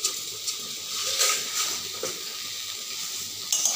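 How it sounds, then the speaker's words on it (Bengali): Olive chutney with sugar being stirred in a hot frying pan: a steady sizzle with soft scraping strokes and occasional brighter clicks of the spoon against the pan. "চিনিটাকে দিয়েও কিছু সময় নাড়িয়ে নেব।"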